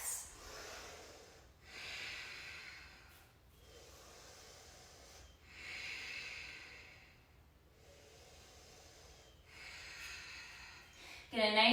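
Slow, deep breaths held during a yoga inversion, about four long hissing inhale-exhale cycles, quiet and close, with a brief louder rustle at the end.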